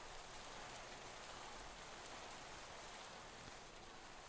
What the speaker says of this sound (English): Oh, the humanity and the misery of rain.